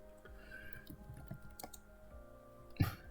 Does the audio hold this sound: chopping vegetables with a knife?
no